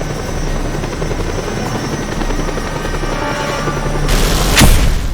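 A helicopter in the video game Just Cause 2, its rotor drone loud and steady throughout, with a sharp explosive boom bursting near the end.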